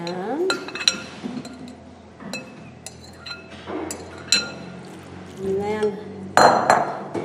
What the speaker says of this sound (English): so you just put that into a loaf pan